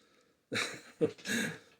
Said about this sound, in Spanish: Empiezo a hablar y empiezo a toser.